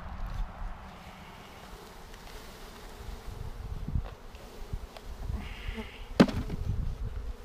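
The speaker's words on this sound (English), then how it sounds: "I'm gonna just dump the bees in here" Honeybees from a 3-pound package buzz in a low, steady drone while being dumped into a nucleus hive in very cold weather, with bumps, rustling and a sharp knock close by.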